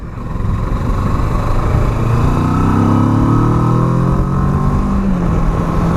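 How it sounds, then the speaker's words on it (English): A 2018 Kawasaki Versys 650 twin-cylinder engine with standard exhaust runs steadily and loud nearby, its throaty drone rising slightly in pitch as it revs. "it's got a lovely sound, this"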